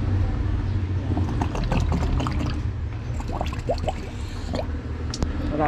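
Rice-washing water is poured and stirred in a container, giving a steady, close wash of liquid splashing and trickling with a few small drips throughout.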